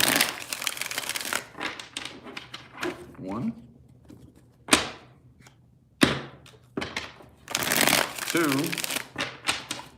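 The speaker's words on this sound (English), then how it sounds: "3 more shuffles here." Tarot cards riffle and slap in several quick bursts of shuffling, close and crisp, separated by short pauses, while a person talks and counts between them.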